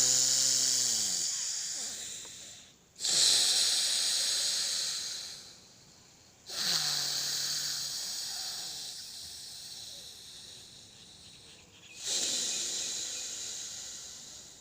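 Forceful breathing through the nose in Anulom Vilom pranayama, three long hissing exhalations and inhalations, each swelling and tapering before a brief pause, close and loud, with no talking over them.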